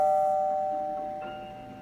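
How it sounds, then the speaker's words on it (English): Soft electronic doorbell chime with a steady tone that rings once, then a second note enters and fades out quietly, with no one speaking. "The doorbell rang."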